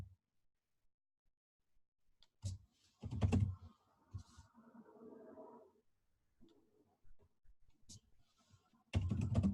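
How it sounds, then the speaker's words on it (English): Typing on a computer keyboard in short bursts, with clustered key clicks separated by quiet pauses, close and clear, ending in a final louder burst of keystrokes. "Dude, I gotta type out the whole dang thing."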